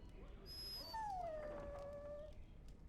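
A dog in a Dragon Age: Origins scene lets out a high, drawn-out whimper that rises and then slides down, soft and close, with a few faint yips around it.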